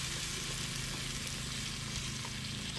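Onion and tomato sizzle steadily in a pan with mutton keema, village style, a continuous close frying hiss with faint stirring, no voices.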